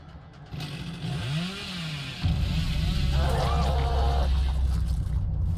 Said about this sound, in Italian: Mi sono svegliato per via della motosega